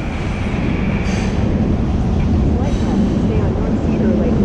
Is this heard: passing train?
yes